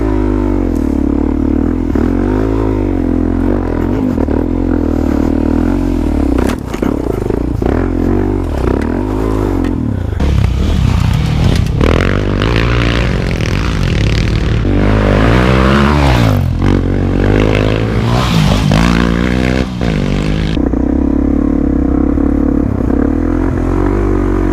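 A 2017 Suzuki DRZ400SM supermoto on Shinko 244 knobby tires being ridden, its single-cylinder engine loud and close, revving up and down through gears with constant wind rumble.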